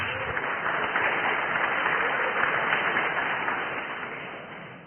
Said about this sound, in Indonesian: Jadi tepuk tangan untuk semuanya.